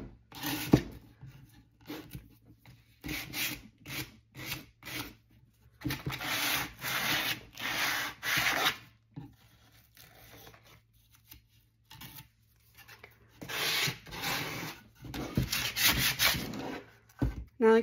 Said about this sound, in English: I just give it a light sand